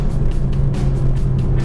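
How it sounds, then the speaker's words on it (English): The engine of a Porsche 964 Carrera 4 hums with a steady low drone, heard from inside the car over a short stretch of driving. "It's got a beautiful engine,"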